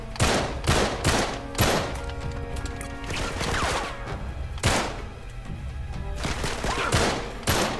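Gunfire in the Uncharted 3 video game: loud, sharp shots and rapid automatic bursts crack out in clusters, with heavy thumps and a dense rumble of battle continuing between the volleys.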